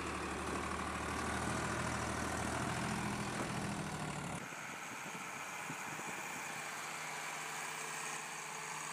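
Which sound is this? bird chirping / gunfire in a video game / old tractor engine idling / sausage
old tractor engine idling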